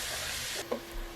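Onion, garlic and carrot sautéing in olive oil in a preheated pot, giving a close, steady sizzle with a faint stir near the end.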